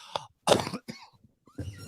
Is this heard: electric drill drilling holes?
no